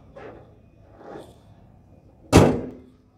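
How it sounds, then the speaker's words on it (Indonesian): After some faint shuffling, the hood of a used Toyota ex-taxi car slams shut once with a loud, heavy thud that rings briefly. "Nah, untuk kap mesin emang harus dibanting gitu ya, jadi biar langsung rapet"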